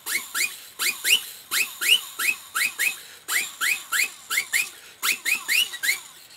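Whistling on a small 3D-printed thimble whistle: a string of short, bright rising chirps repeated in quick bursts, loud and close, with no voices.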